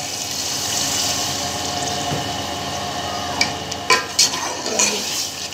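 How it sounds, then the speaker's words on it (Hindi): Steady rush of about two glasses of water pouring into a sizzling pan of frying beef for pulao, with a few clinks and stirring knocks near the end. "अब हम इसमें तकरीबन 2 गिलास पानी डालेंगे ताकि गोश्त अच्छे से गल जाए।"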